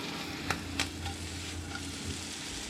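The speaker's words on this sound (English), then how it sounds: "Cook down the beet leaves." Beet leaves cook down in a pan with a soft steady sizzle, with a couple of sharp scraping stirs near the start, heard faintly and without talking.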